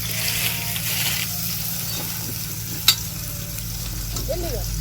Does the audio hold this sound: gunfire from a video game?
no